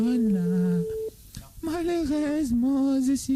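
A telephone line tone sounds during a prank call on a Creole radio night show, a steady held tone that breaks off before pitched, voice-like tones follow.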